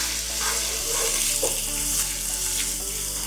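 Minced onions fry in oil in a hot wok, a steady close-up sizzle with light stirring scrapes and no voices.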